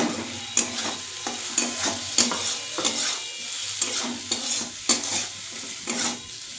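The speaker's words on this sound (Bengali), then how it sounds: "এর মধ্যে এবার আমি এই ভাজা আলুটা দিয়ে দিচ্ছি, এর সব মশলার সঙ্গে কষিয়ে নেব।" Fried potatoes are stirred into cumin and other spices in a pan, with rhythmic spatula scrapes and clinks repeating every half second or so over a continuous close sizzle.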